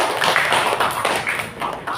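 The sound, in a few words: class clapping hands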